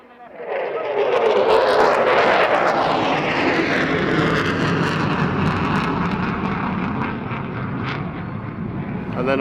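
Dutch F-16 fighter jet in afterburner during an evening seaside airshow display over Sunderland, a loud continuous roar swelling as it passes and slowly fading, with a commentator talking over it.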